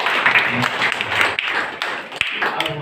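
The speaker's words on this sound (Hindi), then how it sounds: "एक बार जोरदार तालियों से" Applause from an audience at an honour ceremony held alongside a medical camp, a dense, steady patter of many hands clapping throughout, fairly loud and continuous with no clear break.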